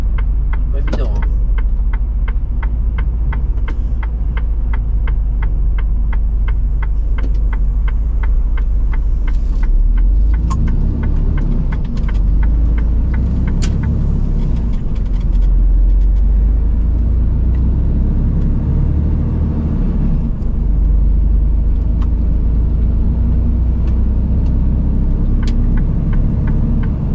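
Cars roll past on a road in Germany, heard as a steady close rumble of traffic beneath ongoing talk and navigation prompts.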